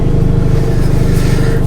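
Audi S3 fitted with an upgraded exhaust, revving with a loud, close, throaty pulsing drone, steady for a brief moment with no talk.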